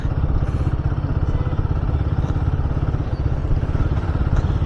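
Motorcycle engine of a KTM Duke 200NS struggling to shift into fourth, fifth and sixth gear, a loud, close, rapid pulsing throb under steady riding noise, with no speech.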